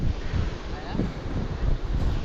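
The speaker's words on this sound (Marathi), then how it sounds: "पाऊस चालू झाला आहे, वारा पण चालू झाला आहे" Strong wind with rain buffeting the microphone on a motorcycle ride at Malshej, a continuous low roaring rumble with gusty surges throughout.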